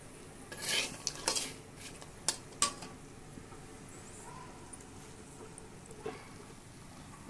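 Fried red peanuts scooped out of a pan on very low heat, a few quick metallic scrapes and clinks of a spoon against the pan early on, then a faint quiet hiss.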